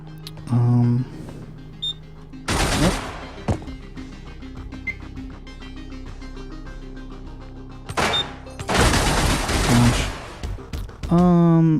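Full-auto gunfire in the video game Receiver, two loud rapid bursts a few seconds apart with clicks and mechanical handling sounds in between.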